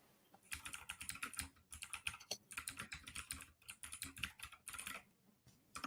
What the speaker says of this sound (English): Your keyboard's not muted.